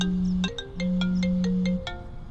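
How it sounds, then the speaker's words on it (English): A phone ringtone plays on a golf course, a loud repeating electronic melody of sustained and short tones with no one talking. "You're getting a phone call."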